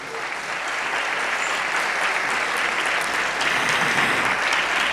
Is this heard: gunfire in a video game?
no